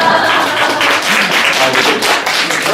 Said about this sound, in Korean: 직원분들께 박수.